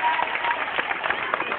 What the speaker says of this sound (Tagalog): Kindly give a big hand for our preschoolers.